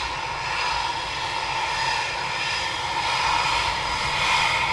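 A two-seater Eurofighter Typhoon jet at RAF Coningsby produces a steady engine roar that swells slightly toward the end, with no voices.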